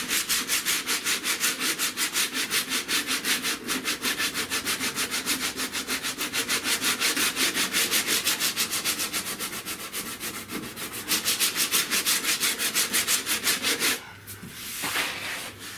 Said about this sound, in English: I sand this